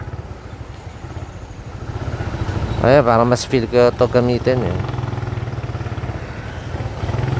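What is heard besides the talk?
Suzuki Raider motorcycle riding in traffic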